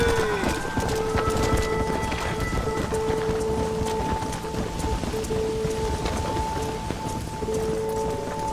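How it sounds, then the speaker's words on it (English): A herd of horses stampedes through the rain in the Red Dead Redemption video game, a dense continuous drumming of hooves mixed with rainfall and a sustained tonal game sound underneath. "They're spooked! We have to stop the stampeding!"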